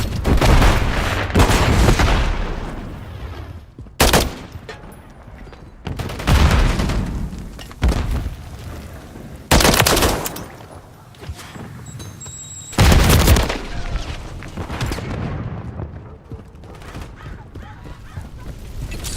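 Video game combat erupts in a series of loud, broadband explosion bursts, a grenade blast and heavy gunfire, striking at irregular intervals across the stretch with dense noisy action between them.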